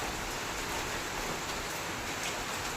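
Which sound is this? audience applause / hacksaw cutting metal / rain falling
rain falling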